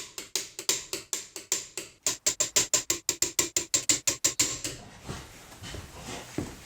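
Rapid run of sharp ratcheting clicks from a wrench on the bolts of a Ford Focus, about two dozen evenly paced snaps in two bursts, close and crisp, fading into quiet handling noise at the end.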